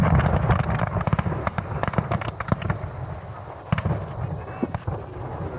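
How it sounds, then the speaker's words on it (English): Muskets fired in a ragged volley by a Civil War Parliament Army reenactment at a historic hall outdoors, a rapid string of sharp cracking shots at middle distance over crowd murmur. "The musket volley was extremely well controlled."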